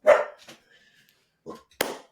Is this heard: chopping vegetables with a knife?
no